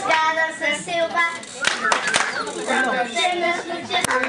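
Children clapping along to a sung children's song at a Children's Day event, a few distinct hand claps, some of them sharp, landing between sung lines while voices keep singing throughout.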